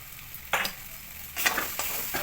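A spoon stirs and mixes a banana flower chop filling with spices in a hot pan, a few scraping strokes over a soft, steady sizzle close by, with no talking.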